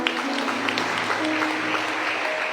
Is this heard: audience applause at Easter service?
yes